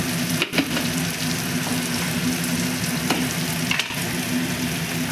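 Spices such as chilli powder, turmeric and coriander powder stirred in a hot cooking pan for mixed dal, giving a continuous close sizzle with a couple of sharper scrapes.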